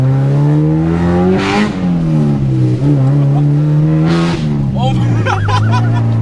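A K-swapped Honda EG Civic engine revs hard and climbs steadily in pitch as it pulls through the gears, heard loud from inside the cabin. Occasional voices talk over the strong, continuous engine note.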